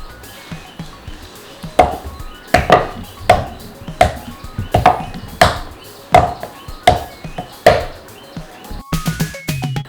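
Papad dough is pounded on a stone in a steady series of loud, heavy thuds, about one every three-quarters of a second, ending in quicker lighter knocks.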